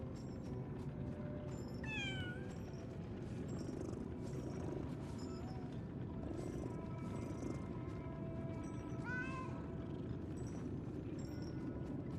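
Cat meowing in the video game Lies of P: two rising-falling meows over a steady ambient game background, with no one speaking.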